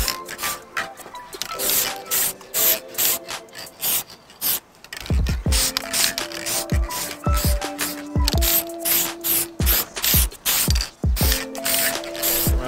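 Clear coat spray paint misted onto a carbon fiber mirror cap of a BMW F30, heard as short hissing spray bursts mixed with clicks and rattling taps, close and fairly loud, no talking.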